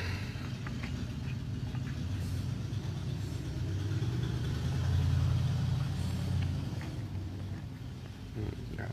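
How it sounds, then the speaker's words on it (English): A Craftsman V20 brushless air compressor runs with a continuous low motor drone and hum that swells slightly in the middle, steady and close, with no talking. "Got a compressor all the way up here."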